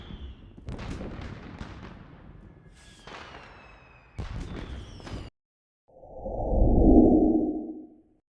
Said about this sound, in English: before then, enjoy the fireworks display